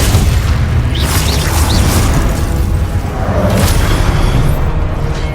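Repeated Confringo fire-spell explosions in Hogwarts Legacy, heavy booming blasts with whooshing bursts on top, coming one after another in a continuous loud barrage with no gaps of quiet and no talk.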